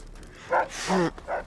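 A dog in Fallout 3 gives a few short, close barks and yips, three quick bursts in a row with brief gaps between them.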